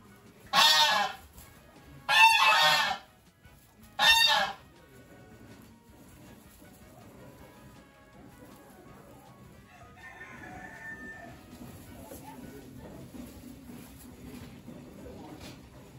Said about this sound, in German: Du bist ja ein hübscher Hahn.